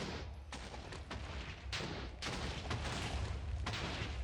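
A TNT explosion in Minecraft, heard as a dense run of booming blasts and crackling bursts that go on for several seconds, loud and continuous with repeated sharp peaks.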